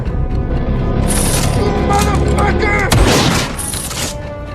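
Fictional blood gun firing explosively in a western movie, heard as loud booming blasts and crashing impacts mixed with a dense dramatic score, with a sharp burst near the middle.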